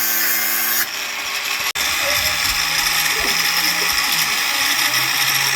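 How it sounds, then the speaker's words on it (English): A power grinder works steadily at screw heads with a harsh, continuous whine. Cardboard is laid underneath during a repair after a microwave blowout. One brief cutout breaks the sound near the start, and no voices are heard. "he's going to keep grinding those heads"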